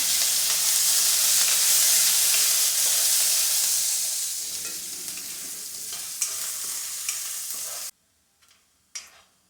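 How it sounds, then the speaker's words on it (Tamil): Chopped green chilli and ginger hit a hot pan with a loud, hissing sizzle that gradually softens. The sound then cuts out, leaving a couple of faint utensil clicks. "பொடியை கட் பண்ணி வச்ச பச்சை மிளகாயும் இஞ்சியும் சேர்த்துக்கிறோம்."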